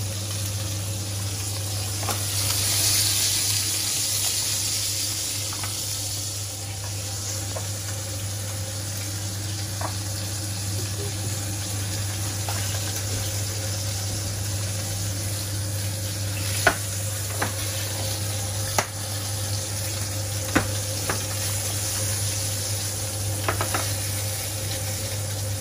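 Curry and goulash cook in a pan with a little water added, giving a steady sizzle throughout with a few sharp clinks and taps scattered over it.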